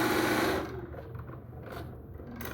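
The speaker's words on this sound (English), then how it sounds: "Sew them together with a 1/4 inch seam." A sewing machine runs fast for about half a second, stitching a quarter-inch seam on quilt half-square triangle units, then stops, leaving low mechanical handling noise and soft rustling.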